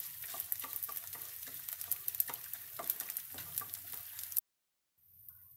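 Edible gum (gond) pieces frying in hot ghee in a pan, a dense steady crackle and sizzle with stirring scrapes, close and continuous before cutting to near silence.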